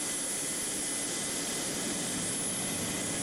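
Engines of a Hercules cargo aircraft giving off a steady, loud, unbroken roar with a high whine on top, heard alone without voices.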